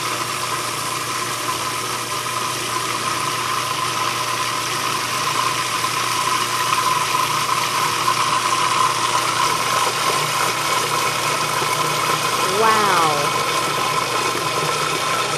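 A blender runs steadily while mixing a large batch of salad dressing, a continuous loud motor whir holding level throughout without breaks, close by.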